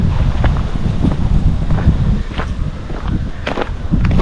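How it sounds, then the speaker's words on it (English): Wind gusts through trees along a bypass, a loud rushing roar buffeting close to the microphone with scattered rustles and faint knocks throughout. "you can hear the wind."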